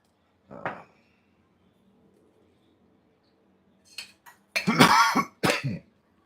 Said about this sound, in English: My goodness, starting to cough a lot.